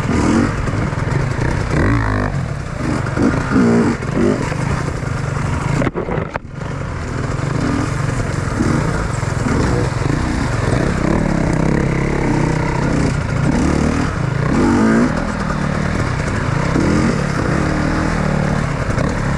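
Enduro motorcycles from KTM, Beta and Kawasaki running on a mountain trail, a continuous loud buzzing engine drone with revving swells and a brief dropout, no talk.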